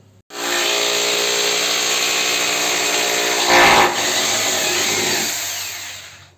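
A power drill runs continuously at close range with a high steady whine, briefly bearing down harder midway before spinning down and stopping.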